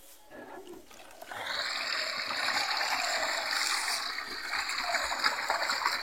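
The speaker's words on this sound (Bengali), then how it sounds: "রস কিভাবে ঢালছে দেখুন" Date palm sap, strained before being boiled down into jaggery, pours in a steady splashing stream that starts after a quiet second and continues close and loud to the end.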